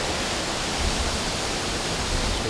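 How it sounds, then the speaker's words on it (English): A river stream rushes at Aira Force waterfall in the Lake District, a loud, dense, unbroken roar of white water heard close by, with no voices. "I don't know if you can hear me over the actual sound of the river, the stream, or whatever they call them"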